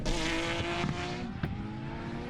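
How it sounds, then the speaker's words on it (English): A B2R Motorsports R32 GTR drag car launches at a drag racing shootout, its engine roaring loudly with a sustained rising drone and a few sharp bursts, heard at close range with no speech over it. "He's out of there in that B2R Motorsports R32 GTR."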